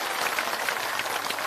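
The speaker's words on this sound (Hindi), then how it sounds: "एक बार जोरदार ताली बजाइए" Applause from a crowd at an open-air village gathering in Bihar, a dense steady patter of many hands clapping, fairly loud and continuous throughout with no voices on top.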